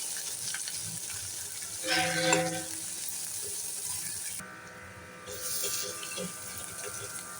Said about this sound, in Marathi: आता हे तेलामध्ये चांगलं आपण परतून घेऊया.